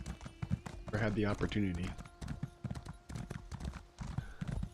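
Horse hooves clip-clop steadily at an even riding pace in the video game ESO High Isle, while someone talks over the rhythmic footfalls.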